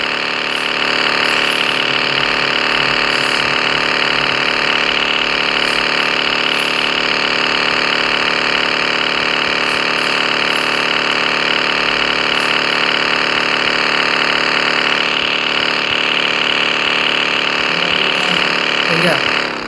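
A vehicle engine drones in a video game, a loud, steady mechanical hum with a constant tone that runs the whole time while people talk over it.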